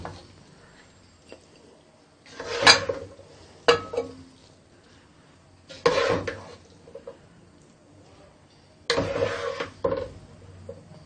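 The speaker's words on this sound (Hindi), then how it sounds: "अब हम इस सब्जी को डिश में निकाल लेंगे।" Mixed vegetable curry is served from a pan into a dish. A spoon scrapes and clatters against the metal in four short, uneven bursts with quiet pauses between, nearby and with no talking.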